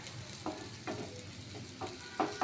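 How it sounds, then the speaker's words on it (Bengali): Potato slices and bitter gourd fry in oil in a pan, a soft steady sizzle broken by a few light scraping stirs, close but quiet. "দু মিনিট হয়ে গেছে দেখছেন কেমন সুন্দর ভাজা ভাজা হয়ে গেছে আলুগুলোও লাল হয়ে গেছে"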